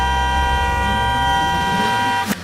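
A steady, loud, droning car horn held for about two seconds, ending with a short click.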